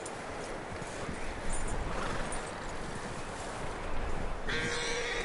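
Horse hooves clip-clopping over ground in Red Dead Redemption 2, a steady rhythmic trot amid outdoor game ambience, with a brief bright sound near the end.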